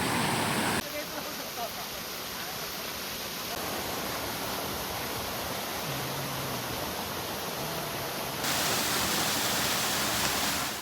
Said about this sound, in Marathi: ओम्याला दिसलाय वॉटरफॉल आणि ओम्या चाललाय आता धावत.